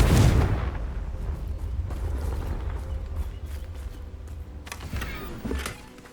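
A Confringo fire spell bursts in Hogwarts Legacy, a loud booming blast up front that rolls into a rumbling tail, followed by smaller crackling hits near the end.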